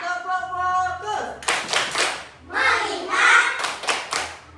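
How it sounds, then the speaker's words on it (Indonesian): Third-grade classroom doing a rhythmic group clapping game: children chant together between bursts of sharp, synchronized claps in short patterned groups, close and lively. "Tepuk fokus."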